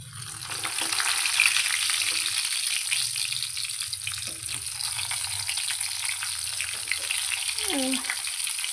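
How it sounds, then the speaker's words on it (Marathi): Stuffed brinjals frying in hot oil with garlic, a steady close crackling sizzle that runs throughout, with a few light knocks and a brief voice near the end. "आता ह्याच्यामध्ये आपण वांगी सोडूया।"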